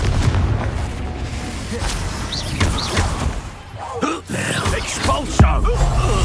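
Confringo spell explosions in the Hogwarts Legacy video game, booming blasts and bursts layered over continuous game battle noise and music, with character voices shouting in between.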